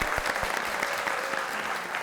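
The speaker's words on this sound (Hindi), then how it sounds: "अच्छा जी, बहुत ज़बरदस्त, तालियां।" Studio audience applauding on a Pakistani comedy talk show, a steady burst of clapping at close range that carries on without a break.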